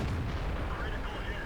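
Tank cannon fire in a tank combat video game, aimed at an enemy tank's tracks; a dense, continuous low rumble of booming blasts fills the short stretch, with a voice faintly underneath.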